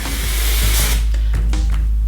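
A close, steady hiss of aerosol hairspray for about a second, then a few shorter puffs as it tapers off.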